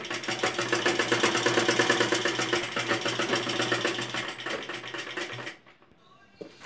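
A sewing machine runs a fast, even rattle of stitches, sewing a loose basting seam on a collar neck, continuing steadily for over five seconds before stopping and leaving near silence.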